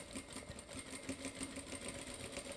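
Sewing machine stitching a 5/8 seam on a puff sleeve dress, running steadily with a fast, even mechanical whir and rapid ticking of the needle, close and continuous.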